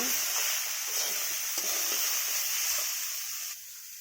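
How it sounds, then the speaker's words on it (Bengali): Chilli powder, coriander powder and salt are stir-fried in a pan for a fish and jackfruit-seed curry. A loud, bright sizzle hisses steadily, broken by scraping stirs, and eases off near the end. "মশলাগুলো দিয়ে ভালো করে কষে নেব"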